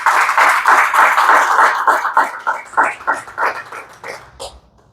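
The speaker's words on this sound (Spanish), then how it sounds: "¿Cuántos le pueden dar un aplauso al Señor?" A church audience claps in praise, loud and close at first, then thinning into scattered individual claps that fade out.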